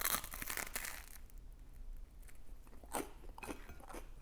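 A crunchy slice of breakfast toast is bitten into up close, giving loud crackling crunches at the start and a few more crunching bursts as it is chewed.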